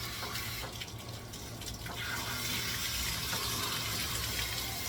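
Steady rushing spray of water onto an American Bully dog during a bath, continuous and close, with faint splashing and no talking.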